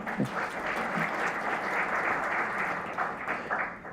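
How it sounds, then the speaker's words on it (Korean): An audience applauds steadily at a public policy forum, a dense, sustained clapping that carries close and loud throughout. "우리 송영길 북방경제협력위원장께도 박수 한번 보내겠습니다"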